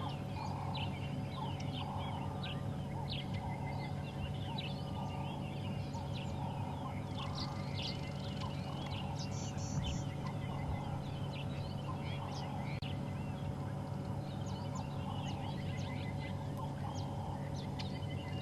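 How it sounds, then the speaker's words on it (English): Dense birdsong fills the bush at sunrise on a safari drive, with turtle doves and shrikes among many overlapping calls and chirps near and far over a steady outdoor background, no voices. "I'm going to be quiet for a while, just listen to the birds."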